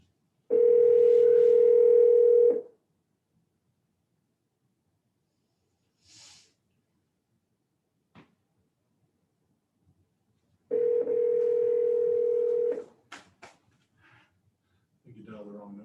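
A steady telephone dial tone sounds twice, each lasting about two seconds, separated by quiet gaps with faint clicks and brief breathy noises, and ends with a short low voice.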